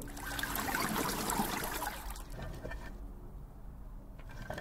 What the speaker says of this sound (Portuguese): Tem uma gotinha, então vamos colocar água.